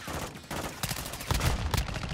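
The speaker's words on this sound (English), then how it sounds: "Taking effective fire!" Gunfire from the Call of Duty Modern Warfare 2 video game: a dense, loud fusillade of overlapping rifle and machine-gun shots in quick bursts, filling the whole stretch with no talk.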